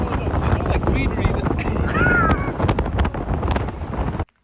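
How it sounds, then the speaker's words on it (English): Strong wind blows outdoors in Paris near the Eiffel Tower, buffeting the microphone with heavy, gusty roaring. Voices and other street noises come through underneath before it stops suddenly. "This is how windy it is. Hear it, guys."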